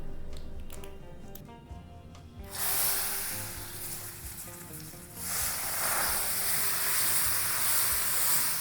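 Hot tempering poured into Udupi-style raw mango appe huli sets off a sudden loud sizzling hiss that rises in two bursts and then holds steady and close.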